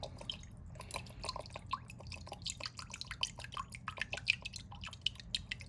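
Worcestershire sauce poured into a measuring cup, a quarter cup's worth, making a quick run of small close drips and splashy ticks over a faint steady background.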